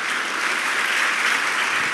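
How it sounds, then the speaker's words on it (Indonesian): An audience gives steady, dense applause during a church sermon, loud and close, filling the whole moment without pause. "Beri tepuk tangan buat dia."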